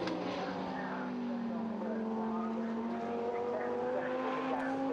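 Lamborghini Super Trofeo race cars roar down the hangar straight at Silverstone, a steady loud engine drone with rising pitch throughout, heard under a commentator's voice.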